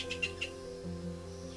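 A few quick, high bird chirps ring out in a Wushan mountain forest near the start, then fade beneath a steady tonal background.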